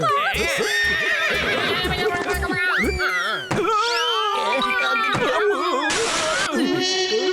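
A cartoon horse neighs loudly in a stylized way, with whinnies rising and falling over clip-clop hoofbeats, boing-like effects and a brief gap midway, amid busy animated sound effects and no clear talking.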